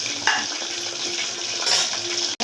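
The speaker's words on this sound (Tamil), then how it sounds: "அந்த பூனைங்களுக்கு கழுத்து, கோழியோட கழுத்து பொரிக்கிறேன்." Chicken necks fry in a pan with a steady, hissing sizzle, close up, ending in a single sharp clink.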